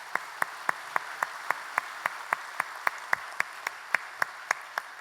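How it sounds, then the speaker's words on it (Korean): A church congregation claps in a congratulatory celebration during a Sunday worship service: evenly spaced claps in unison at a brisk steady rhythm, moderately distant and faint over a soft background hum. "모두들 뜨거운 박수로 축하해 주시면 감사하겠습니다."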